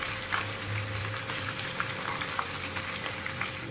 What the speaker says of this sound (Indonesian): Bawang putihnya kita goreng bareng.